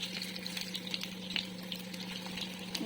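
Gram flour boondi frying in oil for motichoor laddu, a soft continuous bubbling sizzle with faint crackles and a steady low hum underneath, quiet and without speech.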